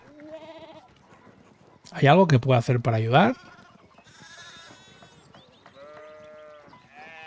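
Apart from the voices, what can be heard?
sheep bleating in Pentiment video game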